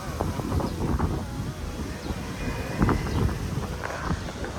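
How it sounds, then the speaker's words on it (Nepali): Gusty wind buffets the microphone in a steady, rumbling roar that swells and eases slightly over a few seconds. "क्या मजाको हावा चलिरहेको छ। हामीलाई पनि कस्तो हावा चलेको।"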